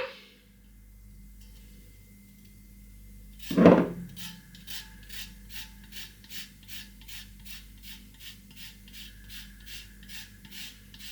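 Lime zested on a hand grater in a kitchen, one sharp scrape followed by a steady run of quick, rhythmic rasping strokes, close and fairly quiet.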